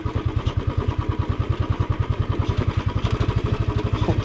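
A Royal Enfield Standard 350 Bullet runs off-road with a loud, close, evenly pulsing single-cylinder thump that holds a steady rhythm throughout, with no talking.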